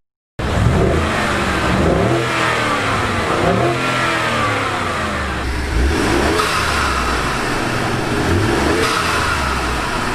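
A Ford F-150 pickup truck engine with a Mustang-like exhaust note revs continuously, holding a loud, steady roar with repeated rising and falling pitch sweeps as it accelerates.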